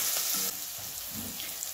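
Spiced masala for poha, with fried peanuts and salt, sizzles steadily in a pan, a broad hiss that drops slightly after a moment, with soft stirring scrapes underneath and no talking.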